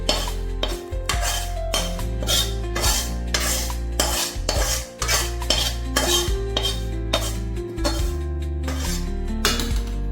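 A spoon stirs a sukhdi mixture of roasted flour and ghee in a metal pan with the gas off, making rapid repeated metallic scraping and clinking strokes that are loud, close and steady, with no voices.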